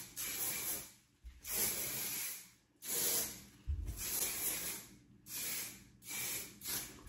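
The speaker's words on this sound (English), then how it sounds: "So I'm just gonna spray all over." Hairspray misted over styled wavy, curly hair in several sharp hissing bursts of a second or so each, separated by short pauses, close and fairly loud.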